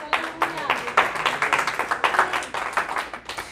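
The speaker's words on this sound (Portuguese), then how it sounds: "Salva de palmas para Jesus" A church congregation claps in praise, a moderate group applause with distinct individual claps standing out, steady and somewhat rhythmic, with a few voices faintly underneath.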